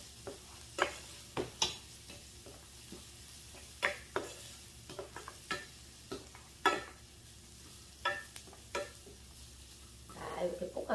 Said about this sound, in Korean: 넣어서 이제 이렇게 볶아서 고추기름을 이 상태에서 내는 거예요